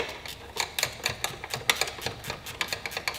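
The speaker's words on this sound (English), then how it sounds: "using ratchet spanner and not the rattle gun" A ratchet spanner clicks in quick, uneven bursts of sharp metallic ticks, close and fairly loud, as a bracket is worked loose during an LS engine swap on a Patrol.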